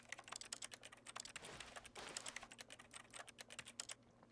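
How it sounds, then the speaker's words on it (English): Rapid keyboard typing in the video game The Stanley Parable, dense quick keystrokes close up and fairly quiet, with no voices. "And I make keyboard typing sounds."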